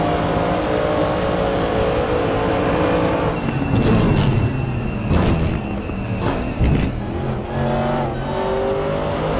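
GT race cars, Porsches among them, battle at the Portimao circuit, engines screaming and revving as they pass, with rising and falling pitch and a few sharp close passes over a constant track roar, no voices.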